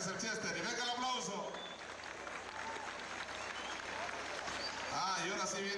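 Crowd applause in the stands at a bull riding event in Huandacareo, Michoacán, steady clapping and cheering swelling at the start and end, with people talking over it.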